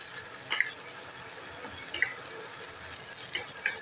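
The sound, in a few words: stirring ragi soup mixture in a pan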